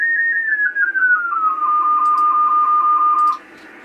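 A Kenwood TS-2000 radio transceiver sends a RTTY idle signal into a dummy load, a steady electronic tone that glides down in pitch and then holds as a rapidly pulsing warble before cutting off, loud and close.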